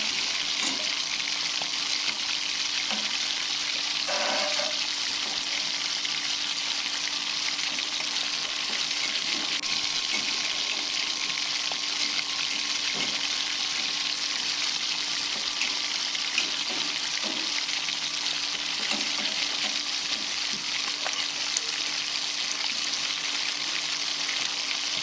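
Beguni, eggplant fritters, sizzle steadily in hot oil with a constant bubbling hiss and occasional light stirring clatters. The frying is close and even throughout, with no talking.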